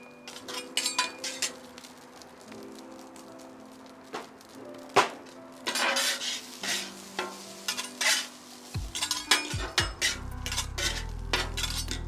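Garlic and onion mix stirred on an oiled hibachi grill, with scraping utensil strokes and clinks over a steady sizzle that grows louder toward the end.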